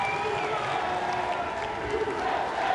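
A crowd cheering and shouting at a Mosconi Cup pool match, a dense, steady roar of voices filling the hall throughout.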